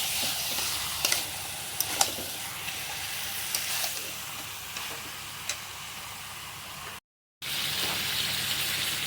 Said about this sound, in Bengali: মশলা মাখানো যে মাংসটা দিয়ে দিলাম।